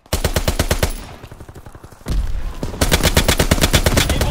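Sustained rapid automatic gunfire in Call of Duty: WWII, loud close bursts with evenly spaced shots, a brief pause, then another long continuous volley.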